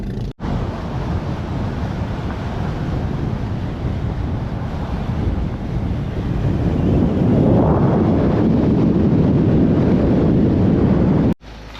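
Surf washing onto a beach in the Philippines under strong wind, a continuous roar that swells louder partway through, with wind buffeting the microphone and no voices.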